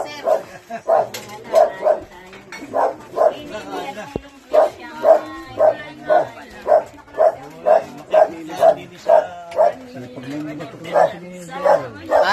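A dog barks repeatedly in a quick, regular rhythm, close and loud, with a few yips mixed in.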